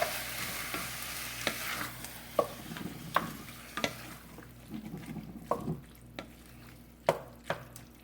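Diced tomatoes sizzling in a pan while cooking sea trout, with a soft frying hiss broken by repeated clacks and scrapes of a utensil against the pan.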